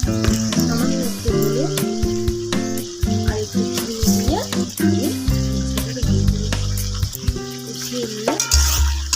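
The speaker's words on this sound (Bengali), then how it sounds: "আদা জিরে পেস্টটা করে রেখেছিলাম ওটাকে দিয়ে ভালো করে কষিয়ে নেবো" Ginger-cumin paste sizzles and fries with taro leaves and fish head in a hot pan, a steady close crackle under stirring clatter and music, with no voices.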